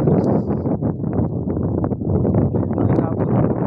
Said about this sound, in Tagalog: Inabot sa lakas ng hangin guys.